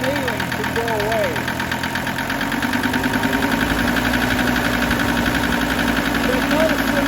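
A worn diesel engine is brought off idle, running with a steady rhythmic knock and a throbbing mechanical rumble up close, while someone talks over it.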